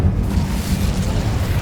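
A fiery Incendio spell in the video game Hogwarts Legacy bursts out as a loud, roaring whoosh of flame with a deep rumbling body, sustained briefly and close.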